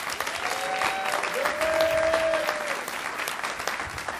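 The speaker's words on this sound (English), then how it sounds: "Give Vincent a round of applause, please." An audience at a cannabis conference panel claps steadily and warmly for a speaker, with a faint musical tone sounding underneath the applause.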